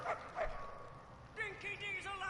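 A dog in the Mad Max video game gives a couple of short yips and whimpers at moderate distance, followed by quiet whining tones over faint game ambience.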